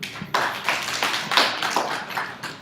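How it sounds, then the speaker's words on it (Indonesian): A seminar audience applauds in several quick bursts of clapping, fairly close and loud, with no talking over it. "Kasih tepuk tangan dulu."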